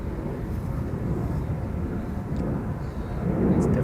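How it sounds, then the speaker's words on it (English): A jet airliner departs from the Polderbaan runway at Amsterdam Schiphol, a broad distant roar with wind noise that builds slightly toward the end. "it's definitely going to be a bit louder when it passes by than the previous airplane."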